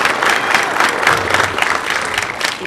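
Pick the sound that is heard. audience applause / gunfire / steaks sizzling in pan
audience applause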